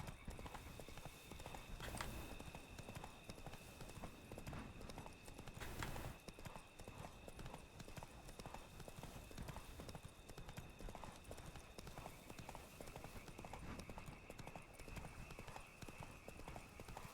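Roach, Geralt's horse in the video game The Witcher 3: Blood and Wine, clip-clopping steadily throughout, with a brief whinny and a voice talking over the hoofbeats.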